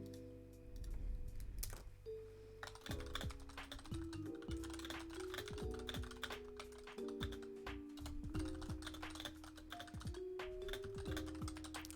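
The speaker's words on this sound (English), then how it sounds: "You like this keyboard ASMR if you can hear it?" Close, steady typing on a computer keyboard, with rapid irregular key clicks running continuously over a soft, sustained tonal background.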